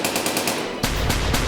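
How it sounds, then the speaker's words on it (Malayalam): Rapid cartoon gunfire during a bank robbery, loud bursts of repeated shots in a steady rattling rhythm, growing heavier and denser halfway through. "ആരെവിടെ കയറി വെടിവെക്കുന്നത്?"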